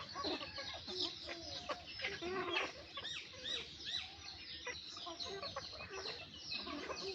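Chickens cluck and chatter in a village home yard, a busy overlapping flock sounding fairly faint and at a moderate distance.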